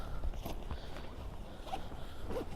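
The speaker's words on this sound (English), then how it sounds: "zip it all back in" The zip on a Coleman Fast Pitch Air Valdes 6XL tent being pulled closed, a few short scratchy zipper runs, close and moderately loud, with faint rustling between strokes.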